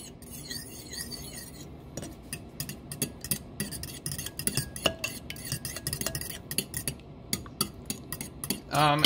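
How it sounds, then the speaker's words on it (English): Eggs whisked in a bowl for huevos rancheros give a fast, uneven run of close scraping clicks and rattles that grows busier toward the end, with no one talking. "so you're just gonna want to whisk them"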